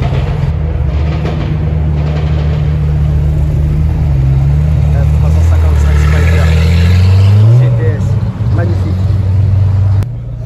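A Ferrari F355 Spider with a naturally aspirated V8 and closed exhaust valves drives past at a car-spotting event, a loud, smooth engine note rising in pitch as it nears and fading away, with street noise around it.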